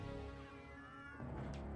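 Cats meowing in the South Park video game, a short, drawn-out meow that rises and shifts pitch over a steady game backdrop, with no talk.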